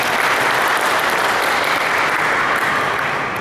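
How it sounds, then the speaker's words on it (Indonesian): A talk-show audience at a book event applauds loudly: dense, even clapping that stays at a constant level throughout, with no gaps or talking. "Minta tepuk tangannya Mas Gary."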